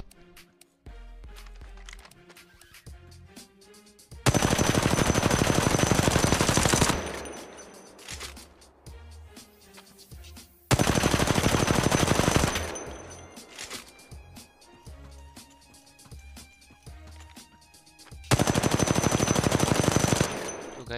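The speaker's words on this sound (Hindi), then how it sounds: "मिड और शॉर्ट रेंज में कितना स्टेबल गन चली, रिकॉइल भी बहुत कम है इसका" An R301 rifle in Apex Legends Mobile fires in three long, loud automatic bursts of rapid shots, separated by quieter stretches with faint footsteps and game sounds.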